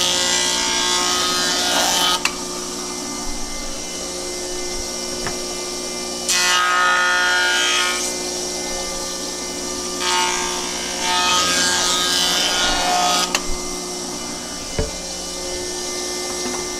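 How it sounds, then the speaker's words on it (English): A hand saw cuts a wooden lumber board guided by a square fence, with steady rasping strokes in bursts separated by quieter pauses, close and loud with no talking. "Do you hear how the board will cut for about 6 to 8 inches and then you hear nothing and then you hear it cutting again?"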